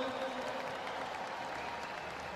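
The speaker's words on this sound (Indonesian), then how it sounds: "Boleh berikan apresiasi tepuk tangan untuk" A crowd applauds a parachutist landing with a flag at the opening ceremony of the 48th Muhammadiyah congress, a steady wash of clapping from many hands with no break.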